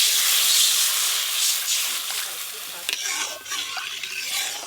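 Water is poured into a hot pan of raw mango, setting off a loud steamy hiss and sizzle that gradually settles, with stirring scrapes and clinks toward the end.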